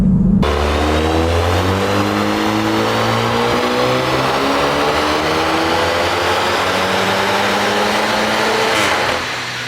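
A loud tuned Cupra 290 engine revs hard and continuously on a dyno, pitch climbing steadily through the gears under a heavy exhaust roar, then drops off sharply at the end.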